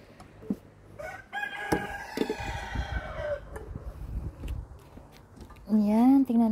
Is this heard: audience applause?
no